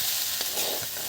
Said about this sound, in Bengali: আলু ভাজা চলছে এখন।